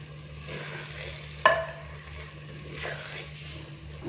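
Moongre and pea curry is stirred in a pan, a soft sizzle under a spoon clack and a couple of gentle scraping swirls, quiet and close.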